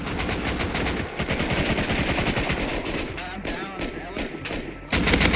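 Gunfire in the video game Rust comes as rapid automatic bursts and scattered shots, loud and dense. Short pauses break up the firing, and a heavier burst lands at the end.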